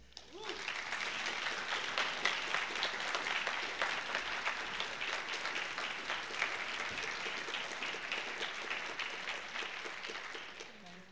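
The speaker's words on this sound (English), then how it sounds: "A round of applause for all of them." An audience at a university library speaker series event gives a round of applause, dense even clapping that swells quickly, holds steady, and tapers off near the end.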